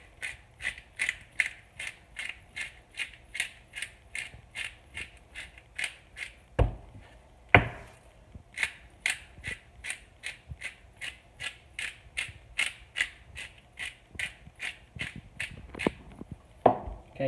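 A hand-turned pepper grinder cracks pepper over a seasoned steak, producing a long series of close, regular ratcheting crunches with a few sharper knocks mixed in and no talk.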